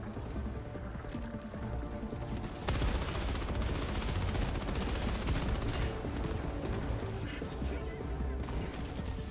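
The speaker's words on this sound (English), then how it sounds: "the machine gun is a versatile and powerful addition to your arsenal" Machine gun firing in the Helldivers 2 video game, a dense, continuous burst of rapid automatic fire that is loud and sustained throughout, with a heavier surge partway through.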